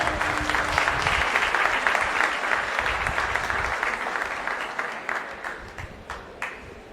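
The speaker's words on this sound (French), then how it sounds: "Applaudissez grandement." A hall audience gives warm applause as the CEO of a training company is welcomed to the podium, full steady clapping at first that gradually thins and fades toward the end.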